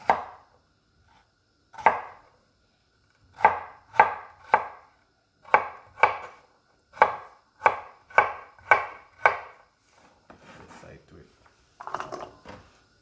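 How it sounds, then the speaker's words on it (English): Knife chopping vegetables on a cutting board for Jamaican peanut and gungo peas soup, a series of sharp, close, distinct thuds in an irregular rhythm, with softer handling noises near the end. "I'm gonna dice these."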